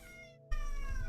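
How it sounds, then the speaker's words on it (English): A cat meows loudly and insistently with a long, drawn-out wailing cry that breaks off briefly and then resumes close by, with no talking over it. "that's annoying cat, man"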